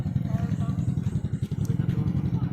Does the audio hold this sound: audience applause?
no